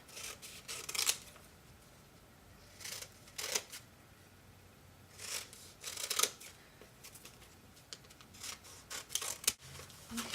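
Scissors cutting paper coupons along dotted lines close up, a series of short crisp snipping strokes in irregular bursts with quiet pauses between them.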